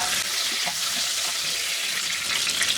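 Pieces of pointed gourd (potol) fry in oil in a pan, a dense, even sizzle close up that holds steady throughout with faint stirring, no voices.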